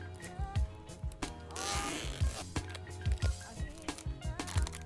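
A hard Oakley sunglasses case is unzipped up close, its zipper rasping in a short burst amid scattered clicks and handling noises.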